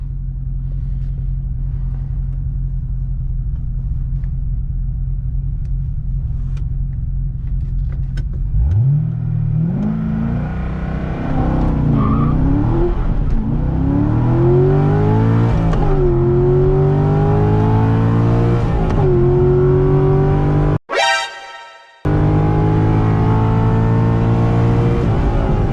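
A stock Corvette C6 Z06 launching down a drag strip: a loud engine that idles, then revs hard through rising gear pulls with shifts between them, close and dominant, with a brief dropout near the end.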